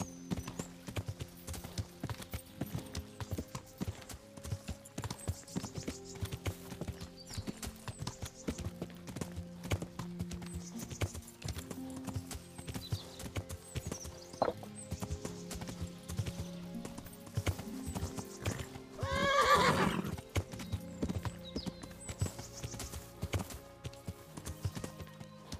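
Hooves of a horse ridden in the medieval video game Kingdom Come: Deliverance, a steady, rhythmic clip-clop at moderate volume that runs throughout, with one brief louder burst near the end.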